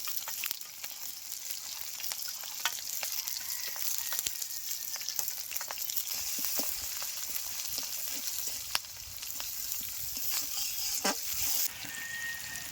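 Chopped onion and green chilli fry in a pan for noodles, giving a steady close sizzle with scattered crackles and occasional stirring scrapes throughout.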